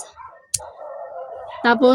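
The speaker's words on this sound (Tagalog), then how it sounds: "Sobrang ingay po ng mga aso doon sa labas" Dogs outside let out a couple of sharp barks at the very end, after a moment of talking nearby.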